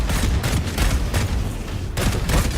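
Gunfire in a video game rattles in dense, loud bursts of rapid shots, a near-continuous fusillade with a short lull before firing resumes.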